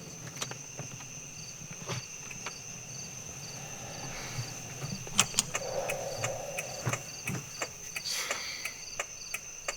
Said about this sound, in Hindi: ये साले डड्डू कितना जोर से बोलते हैं.